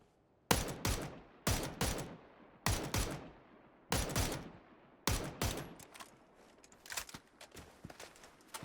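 Gunfire in the battle royale game PUBG comes as bursts of several sharp shots in a rough rhythm, each trailed by a rolling echo that fades out. The bursts are loud and distinct, with no talking over them.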